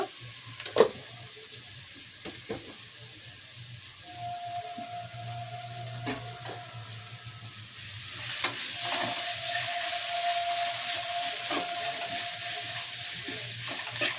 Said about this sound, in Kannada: ಬೆಳ್ಳುಳ್ಳಿ ಶುಂಠಿ ಪೇಸ್ಟು ಚೆನ್ನಾಗಿ ಫ್ರೀ ಆಗಲಿ